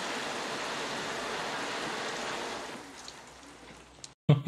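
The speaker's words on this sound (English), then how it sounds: "Right now, it's pouring rain." Pouring rain from a movie scene in Back to the Future Part II gives a steady, soft hiss that thins out after a few seconds and ends abruptly.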